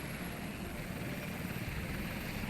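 A naval helicopter in the game Sea Power flies past in a steady, even roar of rotor and engine noise, fairly faint and continuous, with no voices.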